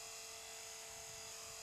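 A radio-controlled model helicopter holds a hover after backing up, giving a steady high-pitched motor and rotor whine with a constant tone and no pauses.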